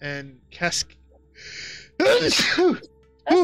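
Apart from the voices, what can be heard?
sneeze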